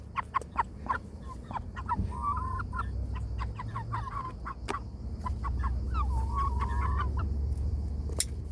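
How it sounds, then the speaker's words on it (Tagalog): Several backyard chickens cluck near the microphone in a vegetable garden, giving short repeated clucks and a few drawn-out calls over a steady low outdoor rumble, with no talking. "Oh, ito yung mga manok ko."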